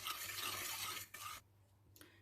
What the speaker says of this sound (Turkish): Bu şekilde 3 kaşık kakaomu da ekledim. Ve bunu karıştırıyorum bütün topaklar gidene kadar.